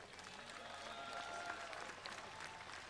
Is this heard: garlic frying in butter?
no